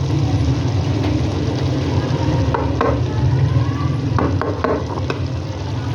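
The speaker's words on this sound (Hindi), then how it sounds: "दही डालकर आपने चिकन कढ़ाई को अच्छे तरीके से मिक्स कर लेना" Yogurt is stirred into a chicken karahi in a hot pan, a steady loud sizzle with scraping spoon strokes and occasional clacks against the metal, Pakistani restaurant-style cooking, continuous throughout.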